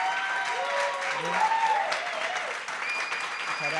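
Continuous crowd applause from a live podcast audience in Madrid, even dense clapping at a steady level throughout, with scattered voices and cheers mixed in underneath.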